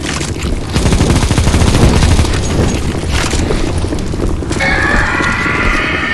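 Rapid bursts of gunfire in the CS:GO zombie escape mod on map ze_flex_b4, dense and loud, running throughout with clattering, rhythmic shots and a brief lull before another sustained volley.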